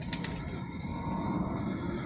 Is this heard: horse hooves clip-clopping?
no